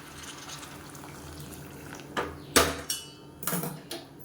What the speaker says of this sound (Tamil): இப்போ இந்த ஸ்டேஜில் தண்ணி சேர்த்துக்கலாம் நல்லா சுடு தண்ணியாக சேர்த்துக்கோங்க